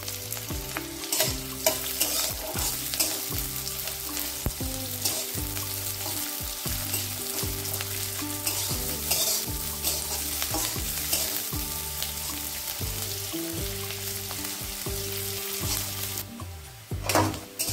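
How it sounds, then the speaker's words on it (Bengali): Chopped onion frying in mustard oil with black cumin, a steady close sizzle with repeated rhythmic stirring scrapes and clatters throughout, loud and continuous without talk. "পেঁয়াজটা 1 মিনিট ভেজে নিয়েছি"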